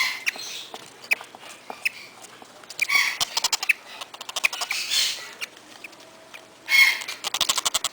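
Baby Quaker parrots and lovebirds chirp and squawk up close indoors, with bursts of rapid sharp peeps and short calls that come and go in clusters over several seconds.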